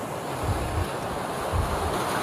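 Sea waves breaking on a Moroccan shore, a steady loud surf wash with low rolling swells under gusting wind noise, no voices.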